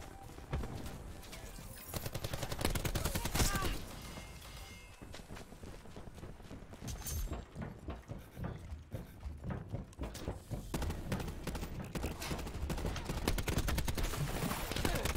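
Cluster grenades bursting in a Call of Duty match, a dense run of rapid overlapping blasts and crackling gunfire that continues steadily throughout at a loud level.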